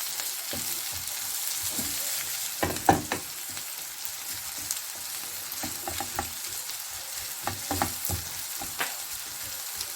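Chicken spring rolls frying in oil in a pan, a continuous soft sizzle with scattered crackles and a few louder pops and stirring scrapes.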